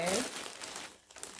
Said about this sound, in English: So I'm opening in this bag.